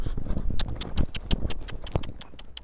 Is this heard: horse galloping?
yes